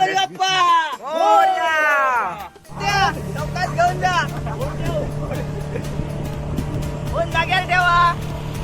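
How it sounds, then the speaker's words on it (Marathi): A wooden rowing boat carrying eleven people on a river journey, with a steady motor hum running under loud nearby talking and voices for most of the stretch. "जस्ट मी आता होडीमध्ये बसलो आणि आता आमचा होडीचा प्रवास चालू आहे."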